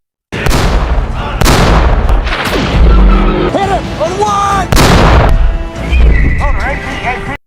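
Tank cannon fire and explosions from the war film Fury boom loud and near in repeated blasts, with gritty rumbling between them. Whining, swooping tones run alongside, and a voice can be heard under the din.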